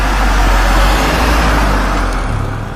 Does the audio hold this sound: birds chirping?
no